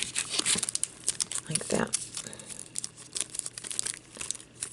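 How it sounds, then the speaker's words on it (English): Small strips of tape rip and crinkle as they are pressed onto cardboard ends for a handmade Valentine candy bar tag, close crackling and tearing under a woman's brief speech. "going to take some tape, some little pieces, and just tape these ends back"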